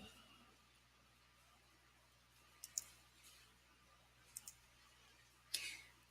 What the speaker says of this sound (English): I'm going to right click and copy that